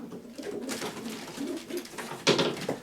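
Young pigeons coo with low, soft, burbling calls that repeat steadily, close by, plus a slightly louder flurry of cooing near the end.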